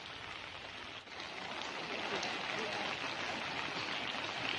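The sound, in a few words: water flowing in a stream after rain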